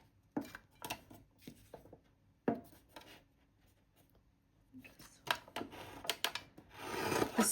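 A small paper trimmer cutting paper into squares, quiet scattered slides and sharp clicks in short bursts near the mic, with a faint voice in the background at times.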